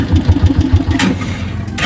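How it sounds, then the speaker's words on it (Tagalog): A motorcycle engine turns over repeatedly without catching, a rhythmic series of low cranking pulses close by that fades into a rough low rumble. "So hindi ma-start din natin yung motor."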